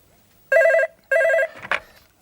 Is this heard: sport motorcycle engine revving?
no